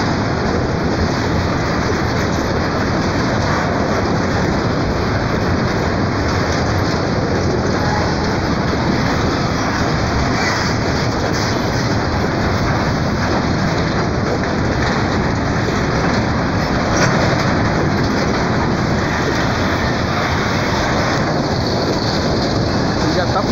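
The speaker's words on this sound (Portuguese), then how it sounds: "O povo aqui de Joinville deve amar o trem quando passa." A freight train rolls past a level crossing in Joinville, Brazil, a steady loud rumble with faint clickety-clack that fills the whole stretch without pause.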